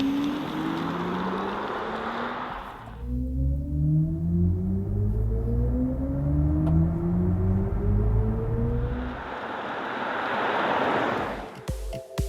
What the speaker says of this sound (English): Join us for a driving review of the new BMW iX3, the electrified X3.